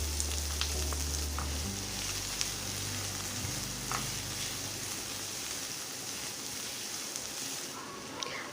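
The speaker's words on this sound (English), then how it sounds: "Saute the onions till it's soft and translucent." Chopped onions with a green chili sauté in a pan, a steady soft sizzle and crackle with a low hum underneath and occasional faint scrapes, no voice.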